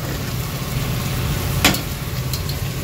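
Vegetable soup with blanched vegetables and their cooking water bubbles in a pot while being stirred, a steady soft simmering hiss with one sharp clink of the spoon midway, no talking.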